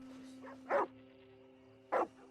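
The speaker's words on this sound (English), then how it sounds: "Hello, new doggo." A dog in the open world of Red Dead Redemption 2 barks twice, two short sharp barks about a second apart over a steady low game ambience.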